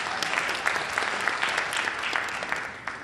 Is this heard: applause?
yes